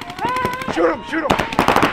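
Paintball guns fire rapid bursts of popping shots during a paintball game, loud and close, with players shouting over the volleys.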